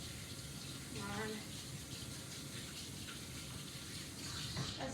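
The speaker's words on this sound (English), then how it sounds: "then I'm going to wash my hands" Tap water runs steadily into a sink while hands are washed, a continuous close splashing hiss with a faint voice briefly under it.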